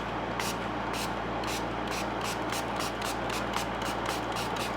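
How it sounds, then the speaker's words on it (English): A spray bottle misting plants in a terrarium, giving a series of short, hissing spritzes in fairly regular rhythm over a constant background hum. "then I'm gonna spray them down"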